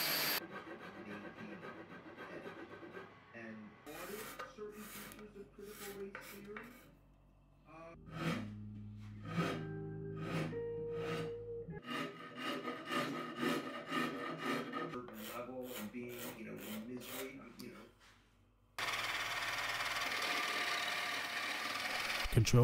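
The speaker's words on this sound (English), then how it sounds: "The top is carved using a mix of power and hand tools." A baritone guitar's wooden top is carved with power and hand tools: bursts of rasping, rubbing strokes alternate with a steady whining machine drone and a loud grinding stretch near the end.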